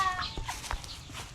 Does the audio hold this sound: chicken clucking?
yes